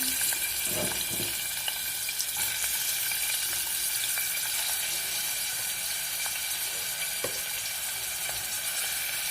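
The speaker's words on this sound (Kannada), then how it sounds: "ಇದನ್ನೆಲ್ಲ ಫ್ರೈ ಮಾಡ್ಕೊತೀನಿ ಒಂದು 2-3 ನಿಮಿಷ." Crushed garlic and chopped onion frying in a pan for a vegetable palya, a steady close sizzle with light stirring clicks throughout.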